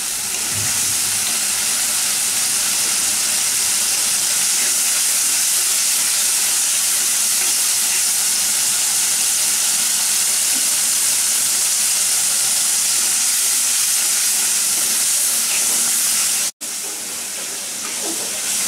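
Spices for a sweet pumpkin curry fry loudly and continuously in a covered pot, a dense steady sizzle and hiss with one brief dropout near the end.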